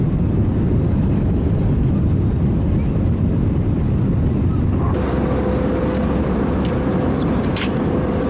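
Steady loud roar of a passenger airliner cabin in flight, a continuous low rumble with no pauses, and faint voices under it.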